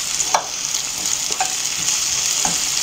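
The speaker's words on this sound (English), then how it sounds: "I just want to ensure that this is sauteed" Garnish sizzles in a hot pot with a steady frying hiss, punctuated by a few spoon scrapes while it is stirred for ackee and saltfish.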